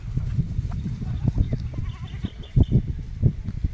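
Goats bleat intermittently in an outdoor setting, several short calls scattered over low background rumble and handling noise.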